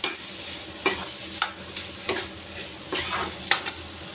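Dal cooking in a pan for dal paratha, stirred now and then: a low steady sizzle broken by a regular series of spoon scrapes and taps against the pan, close by.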